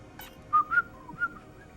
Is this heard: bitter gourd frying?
no